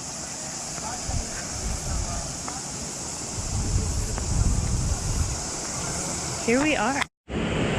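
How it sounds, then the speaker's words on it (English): Steady rush of a waterfall at a hot creek fills the scene with broadband roar, with wind buffeting the microphone, a person speaking briefly near the end before a short cutout. "I think this waterfall is it."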